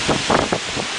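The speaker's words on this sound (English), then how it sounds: "look at those gusts. Look at the trees. Look at the trees. Feel those gusts? You hear them?" Hurricane Paloma's wind gusts roar across a flooded backyard in Cayman, a brief burst of loud, rushing, turbulent wind buffeting the microphone.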